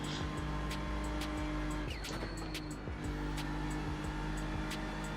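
A race car in Gran Turismo 7 drives steadily with a continuous engine drone and a few brief tire or shift transients, the sound staying at an even moderate level throughout.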